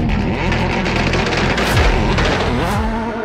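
A 1969 Alfa Romeo 33 Stradale race car in a rallycross video game roars hard and close, its engine note climbing and dropping, with gritty tire and gravel noise throughout.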